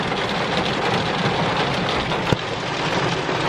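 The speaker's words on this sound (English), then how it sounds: "I have just been struggling with this rain lately" Steady rain drums on the roof of a camper van, a dense continuous hiss with one sharp knock partway through, close and loud with no voices.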